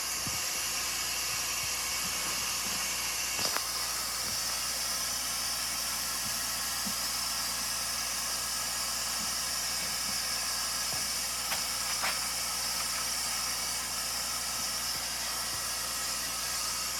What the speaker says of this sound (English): Sanitizing sprays bleach.